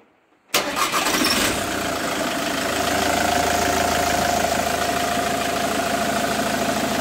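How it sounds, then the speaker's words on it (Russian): Ford Mondeo Mk3 sedan's 2.0 TDCi PUMA 115 hp diesel cranks and fires after a moment of silence, then settles into a steady, even idle that continues loud and close to the end. "Давай заведем. А, заведи, Петрович, пожалуйста"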